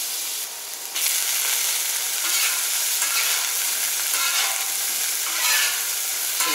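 Chicken brats, potatoes, onions and peppers fry on a Camp Chef FTG600 flat top grill, a loud continuous sizzle with bursts of scraping as the food is stirred and tossed, no voices.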